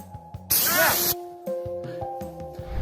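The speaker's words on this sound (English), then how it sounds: "Wait till he gets close to the bear spray." A burst of bear spray, hard and broadband, hisses for about half a second during a bear encounter while people shout and talk around it.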